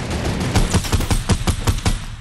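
Rapid bursts of video game gunfire crackle in a steady rhythm of sharp, evenly spaced shots, loud and close, with no talking over them.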